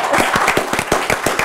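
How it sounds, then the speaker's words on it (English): An audience at a leadership talk on decision making claps in a dense, lively burst of many hands, with sharp beats close together and no speech over it. "Can we clap to that?"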